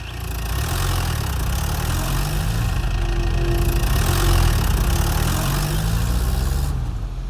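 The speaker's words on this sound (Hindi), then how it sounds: "ट्रैक्टर लेकर ऊपर ही खड़े हैं।" Tractor engine idling nearby, a loud steady low chugging drone that holds throughout with no speech.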